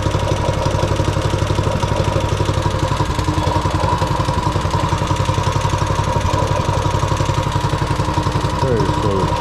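Small Coleman mini bike engine running with the choke partly on, a loud, close, steady chugging idle with rapid even pulses, while a person talks over it.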